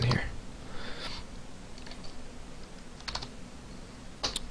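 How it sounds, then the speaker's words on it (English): Keys clatter on a computer keyboard in short bursts of typing, close up, beneath a voice. "I'm going to type username"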